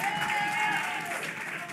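An audience at a community outreach session breaks into sustained applause and cheering, with a dense clapping wash and raised voices running throughout.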